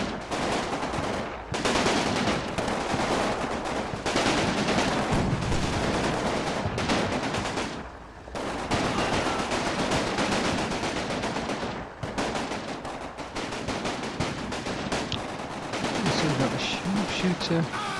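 Sustained suppressive machine gun fire in Combat Mission Battle for Normandy rattles loudly and nearly nonstop in dense bursts, broken by a few brief pauses.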